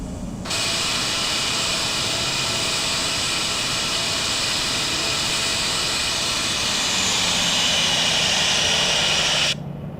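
Jet engine roar of a Challenger 350 business jet taking off in the Infinite Flight simulator game, a loud, steady, broadband rush that holds for nearly ten seconds before cutting off abruptly.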